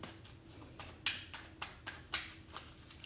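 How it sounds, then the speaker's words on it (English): A series of soft, quick riffling snaps as cards are shuffled up close, irregular bursts in an otherwise quiet room. "it's taking me forever to just shuffle this"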